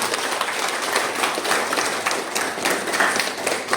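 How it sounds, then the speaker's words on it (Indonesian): A congregation at a Sunday Catholic Mass in a church on Pulau Rimau claps steadily and enthusiastically, a dense even wash of many hands throughout with no pause. "Tepuk tangan yang meriah."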